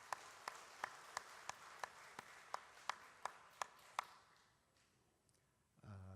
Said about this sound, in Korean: 수고하신 찬양대를 위해서 감사의 박수 한번 합니다.